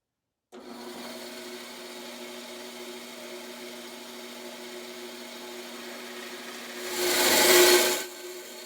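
A power saw blade cuts through wood as a pusher block feeds the piece, giving a steady mid-level whine with a strong hum that swells into a louder, brighter burst near the end and then drops back.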